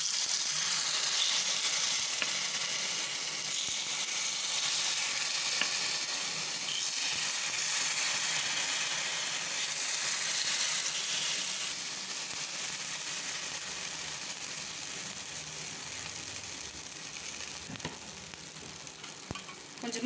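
Rava kuzhi paniyaram batter sizzles in oil in the hollows of a paniyaram pan, giving a steady, close, bright frying hiss that holds for the whole stretch with no talk.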